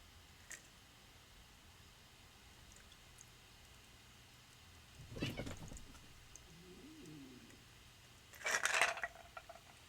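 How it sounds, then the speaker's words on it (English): Cats fight indoors in a quiet room: brief scuffling bursts and a short yowl, then a louder, harsher flare-up of hissing and scrabbling near the end. Nobody talks. "And now my cats are fighting."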